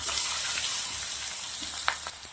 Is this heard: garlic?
yes